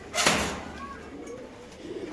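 A pigeon coos once at a pigeon farm, a soft, low call close by, then faint rustling and quiet background noise.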